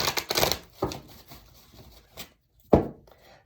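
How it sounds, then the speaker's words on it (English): Tarot cards being shuffled by hand, a few quick riffling bursts separated by pauses, close and fairly quiet, with a final sharp slap of the deck. "Let me shuffle these."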